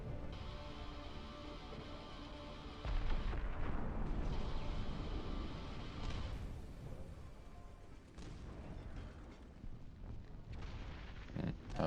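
Howitzer artillery in a real-time strategy video game booms in heavy, rumbling blasts that are loud and dense, one big surge near the three-second mark with further detonations rolling on under a constant low roar.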